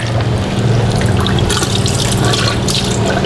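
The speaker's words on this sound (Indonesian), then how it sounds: "Kita mau bilas-bilas jengkolnya." Soaked jengkol beans rinsed in water, a steady loud splashing and running-water wash with sloshing and trickling throughout, close up and with no talk.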